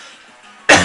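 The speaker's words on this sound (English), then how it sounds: "You have to forgive me for my cough" After a faint quiet stretch, one harsh, close cough bursts out loudly near the end.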